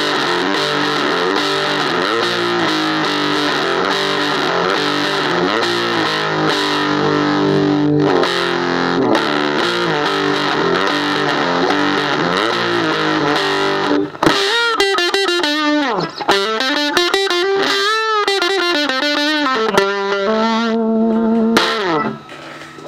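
Electric guitar played through an EWS Fuzzy Drive FD-1 fuzz pedal, loud and heavily distorted, with chords strummed steadily and then bent, sliding lead notes in the latter half, no talk.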